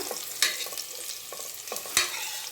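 Onions frying in a pan for a potato and green pea kurma hiss steadily up close. Two sharp spatula scrapes and lighter clicks cut through the sizzle.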